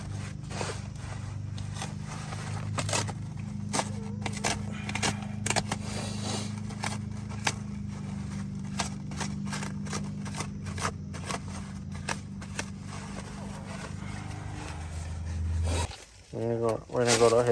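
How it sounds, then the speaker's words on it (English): A razor blade cuts open a car airbag during the rebuild of a 2017 Infiniti Q60 AWD, giving close, repeated sharp scraping and slicing strokes in an irregular rhythm, with a louder rustle near the end. "I want to cut this airbag out."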